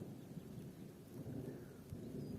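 Distant thunder rolls low and faint beneath a soft rain hiss in countryside near Ahırlı, swelling in two long rumbles with no voices.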